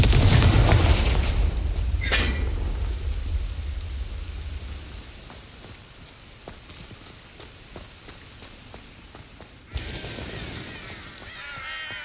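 A deep booming blast from a Confringo explosion spell opens the scene in a video game, rumbling and fading over several seconds, followed by a quieter spell of patter and a second sharp burst near the end.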